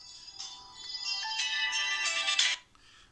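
A phone ringtone rings out, a bright electronic melody rising and holding for about two seconds before cutting off abruptly, fairly close and alone without talk.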